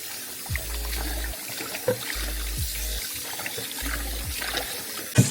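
Tap water runs and trickles over raw meat being rinsed clean in a sink, ahead of cooking a traditional Liberian palm butter soup; a steady close-up flow with soft splashes and brief gaps, no one speaking.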